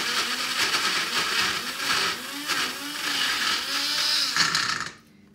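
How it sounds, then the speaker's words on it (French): Small Tribest blender mixing a smoothie bowl preparation, a loud, steady whirring grind with pulsing surges as the contents churn, running alone for about five seconds before cutting off. "On va utiliser un Tribest, donc voilà un petit blender assez performant pour mixer cette préparation."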